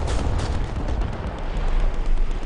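A heavy tank cannon shot in War Thunder amid a thick, rumbling wash of battlefield noise, loud and sustained with booming low-end throughout.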